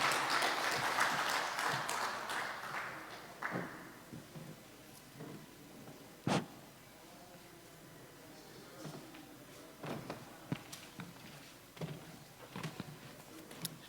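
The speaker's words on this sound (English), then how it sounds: "Round of applause as she makes her way to the podium." Audience at an NBS Bank SME clinic and tradeshow applauds as a presenter walks to the podium; a burst of clapping for a few seconds fades into scattered claps, footsteps and small knocks in a quiet room.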